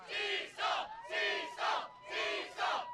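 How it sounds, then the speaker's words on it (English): A crowd at the 2022 Onewheel World Championships women's race chants loudly in three rhythmic, evenly spaced bursts of massed voices. "Oh, the crowd's going wild. The crowd is going wild."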